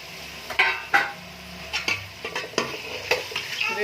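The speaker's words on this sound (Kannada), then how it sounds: "ಈ ರೀತಿಯಾಗಿ ಅದನ್ನು ಫ್ರೈ ಮಾಡ್ಕೊಳ್ಳಿ." Brinjal, potato and sprouted beans fry in oil in a pan while a spoon stirs and scrapes against the metal, giving repeated clinks and bursts of sizzle over a constant close hiss.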